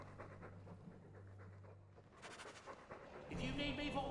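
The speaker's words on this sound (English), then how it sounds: "Silly dog." A dog in the video game Dragon Age II pants in quick, steady breaths under a low background hum, with a voice speaking faintly alongside.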